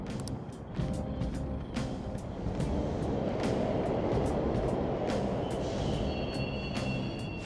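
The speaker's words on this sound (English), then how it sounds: "The trains are totally running!" Subway trains rumble through a station in the video game Persona 5 Royal, a steady loud low roar with repeated clacking transients and a brief high squeal near the end, with no voices over it.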